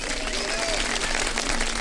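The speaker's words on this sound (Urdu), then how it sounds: "جزا فوڈ والوں کے لیے تالیاں بجا دیں بہت ساری" Studio audience applause on a Pakistani Ramadan TV transmission, a steady dense wash of clapping lasting the whole short moment with a hum beneath and voices mixed in.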